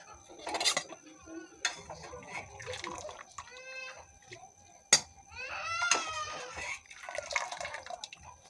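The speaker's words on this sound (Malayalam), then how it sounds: "ഇതിനെ കോരി മാറ്റുകയാണ് ഒരു പാത്രത്തിലേക്ക്." Blanched spinach is scooped from a pot into another vessel for palak paneer, giving clinking ladle-on-metal knocks, drips and splashes of water, plus a few faint squeaks, fairly close and intermittent.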